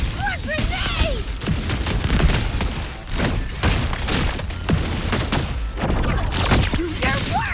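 Grenade blasts and gunfire in the action game Wuthering Waves, a dense run of loud booms and shots packed close together, with shouted game voices and music over the barrage.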